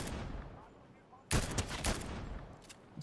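Burst of gunfire in Fortnite, a loud rapid volley of shots cutting in after quiet ambience, with a couple of sharp reports trailing off, players talking around it.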